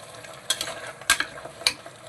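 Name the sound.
stirring mutton with tomato, onion and green chilli masala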